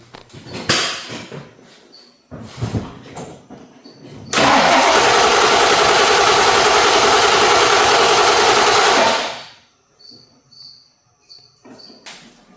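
A Ford Mustang with a swapped 351 Windsor V8 and an MSD Blaster coil cranks a few times, then catches and roars loudly and steadily for about five seconds before shutting off, leaving faint ticking and rustling.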